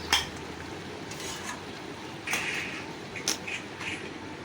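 Potatoes added to chicken curry in a pan, giving a few clattering drops and scrapes over a soft steady sizzle of browned meat, fairly quiet and without talk.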